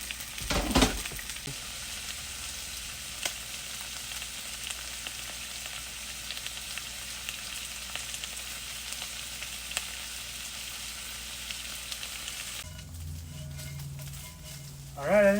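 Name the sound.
potatoes and onions frying in a pan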